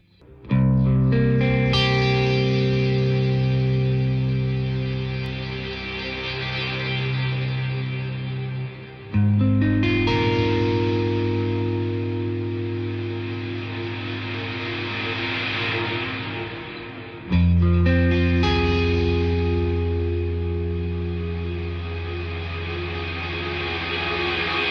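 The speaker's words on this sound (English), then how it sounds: "Okay, Terra Echo, let's turn this up, I want to have a listen." A guitar is played through the Terra Echo delay on a BOSS DD-500 stereo pedal, three long sustained chords each ringing out and washing into trailing repeats, loud and alone.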